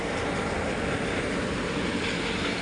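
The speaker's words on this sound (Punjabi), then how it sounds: "ਬਸ ਇਹ ਜੀ ਟਰੈਕਟਰ ਹੈ ਇਧਰ" A tractor engine runs in a red-rice paddy field in West Bengal, giving a loud, steady, broadband rumble and roar that continues without a break.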